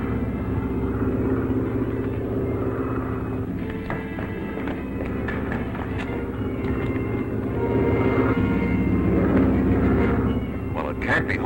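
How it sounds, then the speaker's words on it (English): An aeroplane engine drones steadily overhead in a jungle setting and swells slightly toward the end, with voices speaking over the constant roar. "An aeroplane."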